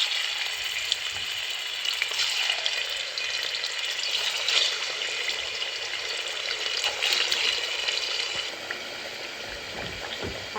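Marinated meat fries in a cauldron with a loud, steady sizzle and crackle that runs unbroken throughout, with no voices.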